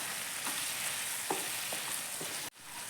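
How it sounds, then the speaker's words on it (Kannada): Spice powders and garam masala fry in a pan for chicken gravy, giving a steady close sizzle with a few scraping stirs before cutting off abruptly. "ಸ್ವಲ್ಪ ಹಸಿ ವಾಸನೆ ಹೋಗೋ ತನಕ ಫ್ರೈ ಮಾಡಿಕೊಂಡ್ರೆ ಸಾಕು."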